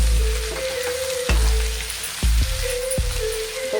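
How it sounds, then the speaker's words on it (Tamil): Goat intestine boti frying in a pan makes a steady, close sizzle, with a few sharp knocks or pops punctuating the crackle. "பாருங்கள் எவ்வளோ நல்லா ஃப்ரை ஆகிடுது போட்டி"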